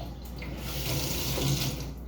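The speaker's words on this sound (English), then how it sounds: "My sink was still dripping, but the faucet was all the way off." Kitchen sink faucet left running, a steady close hiss of water pouring into the basin, continuous and fairly loud with no talking.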